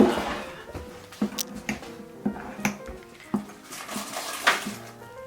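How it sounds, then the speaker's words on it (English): A spoon stirs gluten-free chocolate mug cake batter inside a mug, making repeated quick clinks and taps against the ceramic in an uneven rhythm, close and fairly clear. "But now you want to stir everything."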